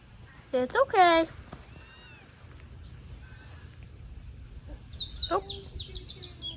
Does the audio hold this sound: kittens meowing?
yes